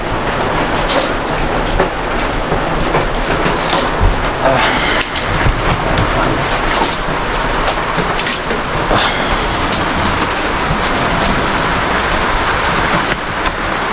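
Heavy rain pounds a house, a steady loud roar with low rumbling, while water leaks through the roof and drips inside; the wash of noise is continuous for the whole stretch.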